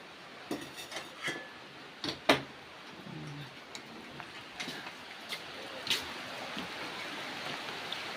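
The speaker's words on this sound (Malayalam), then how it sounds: "കണ്ടോ, കാലത്ത് നല്ല മഴയാണ്." Heavy morning rain falling steadily outside as a faint, continuous hiss, with a few soft clinks and knocks of dishes nearby.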